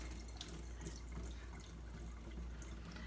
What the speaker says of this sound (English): Alright, draining the water.